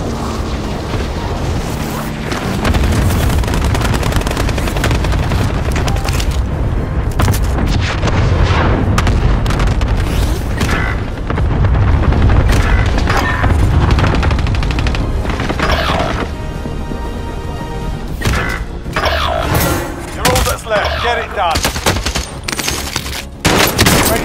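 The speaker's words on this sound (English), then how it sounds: "Allied cluster strike inbound." Video game cluster strike with dense, loud rolling explosions and rapid gunfire, heavy booms stacking into a continuous barrage that thins into scattered bursts and crackling shots.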